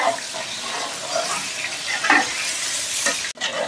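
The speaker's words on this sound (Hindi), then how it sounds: "प्याज फ्राई हो रही" Onions fry loudly in a pan for a butter chicken base, a dense continuous sizzle with stirring scrapes and a brief clatter near the end, no talking.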